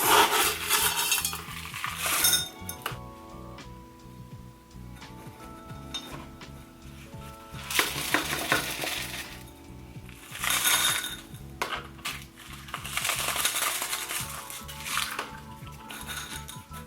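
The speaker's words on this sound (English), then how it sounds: "I like to put extra leca around the moss pole so that it has a little bit more support." Clay LECA pebbles poured and shifted around a moss pole in a plant pot, loose rattling and clattering in several rushes with quieter gaps, close and moderately loud, no talking.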